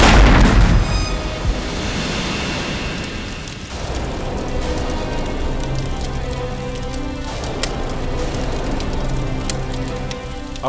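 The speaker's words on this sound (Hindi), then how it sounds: "अपना ही घर बॉम्ब से उड़ा लिया" A bomb blows up a house as a TV drama sound effect, opening with a loud booming blast that decays into a long rumbling, crackling debris roar, with a second swell later.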